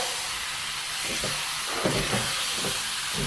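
Curry leaves, chillies and mustard seeds tempering for Onam mango pachadi give a steady hissing sizzle with scattered crackles, heard close with no talk.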